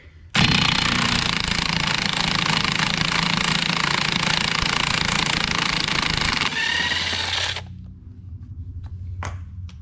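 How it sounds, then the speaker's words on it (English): A pneumatic impact wrench with an 11/16 socket spins off the propeller nut on a Mercury 75-115 HP outboard, a loud continuous rattling hammer lasting about seven seconds, then stopping and leaving faint background noise and a few light clicks. "And then we have an impact here, and it's a 11/16."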